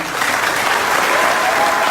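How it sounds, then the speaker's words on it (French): A conference audience in Kisangani applauds two MOCA party members, a dense, loud, steady wash of clapping that runs the whole way through without any voice above it. "je vous demande d'applaudir les deux éminents membres de la MOCA qui m'accompagnent ici"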